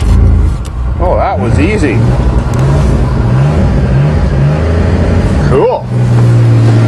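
A 1994 Chevy Blazer with a 4.3 engine idles after a cold start, a loud, close, steady rumble with a few short revs rising and falling. Someone speaks briefly over it.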